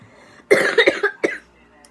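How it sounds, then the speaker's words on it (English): Several sharp coughs in a quick burst, close and loud, followed by one more cough a moment later, from a woman doing her makeup indoors. "You can literally see every coughing thing that I'm doing"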